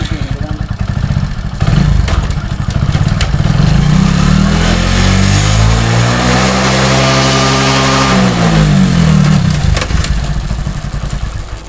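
A motorcycle engine runs after its chain has been washed, greased and tightened, a loud steady mid-pitched drone filling the whole stretch with a sweeping rise and fall in pitch as it is revved, close by.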